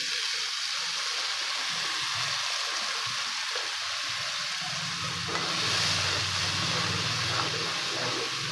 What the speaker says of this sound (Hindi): अब इसके अंदर हम हल्का सा पानी का छींटा लगाएंगे ताकि ये जो स्पाइसेस है जले ना